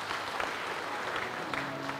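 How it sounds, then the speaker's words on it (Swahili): An audience at a public speech in Tanzania gives a sustained, even round of applause, a thick continuous patter of many hands with no pauses. "Tumpigie makofi mengi sana."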